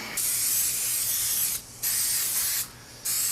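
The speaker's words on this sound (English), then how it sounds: "spray both surfaces, and wait 1 minute and then stick it together." Spray adhesive going onto surfaces for a homemade generator muffler with insulation: three loud, close hissing bursts separated by brief pauses, with no talking.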